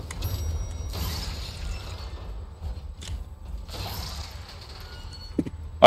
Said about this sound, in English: Right, open the elevator.